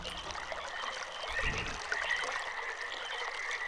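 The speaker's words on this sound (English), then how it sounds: "fortunately, you can hear the water all the way down now." Steady flowing, trickling water in the Channelwood Age of the realMyst video game, a soft continuous stream with a low gurgle near the middle and no talking.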